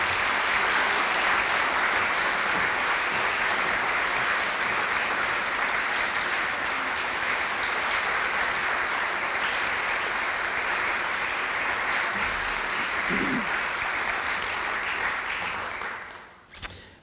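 An audience at Hillsdale College applauds steadily for speaker David Satter, a dense, sustained wash of clapping that holds at an even level before tapering off sharply at the end.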